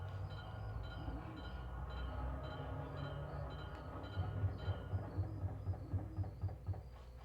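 Rhythmic clatter of a train rolling along rails in the video game Chulip, a steady low rumble with repeated wheel thumps picking up in the second half, fairly quiet and heard without talk.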